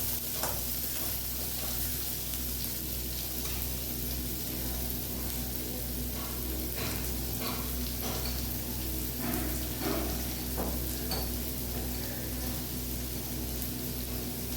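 Chopped onions sautéing in oil for okra rice, a constant soft sizzle with occasional light spatula scrapes and taps, moderately close and steady throughout.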